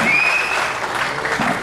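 An audience at a film event applauds, a dense, steady clatter of many hands clapping close by for the whole moment, with a faint voice briefly audible underneath.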